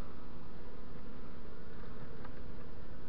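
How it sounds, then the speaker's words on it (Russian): Honeybees buzz steadily at an open hive with plugged-in comb after a queenless colony, a dense, even drone close by that continues throughout with no talk. "Уже там пчелы хватает в улье."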